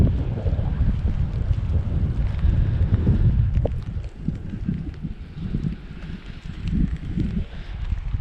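Heavy rain drums steadily on a parked car on a cloudy, rainy day in Custer State Park, South Dakota, a dense, loud, continuous wash with low rumbling gusts and no speech.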